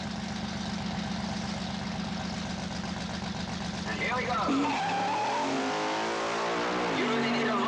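A 1980s drag racing car idles with a deep, steady burble at the starting line during a qualifier, then launches into a loud screaming rev with squealing tires as a commentator talks over it.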